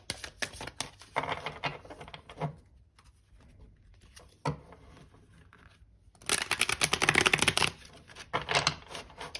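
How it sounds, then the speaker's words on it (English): Tarot cards riffle and shuffle in crisp bursts of rapid flicking, with a louder, sustained shuffle toward the end and brief pauses between. "we'll do one last shuffle"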